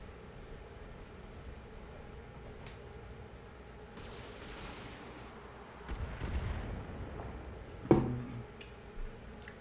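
Weapons fire, including a heavy PPC, strikes a Panther mech in the BattleTech video game, with several booming impacts and sharp cracks over a low, steady background rumble, the loudest hit near the end.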